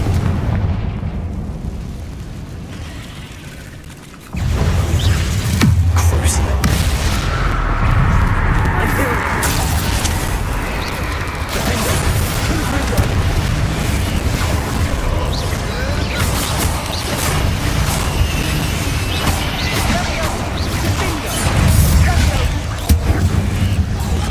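Confringo blasting spell detonating in a Harry Potter video game, a sudden loud boom followed by a long rumbling, crackling blast and debris under game music and voices.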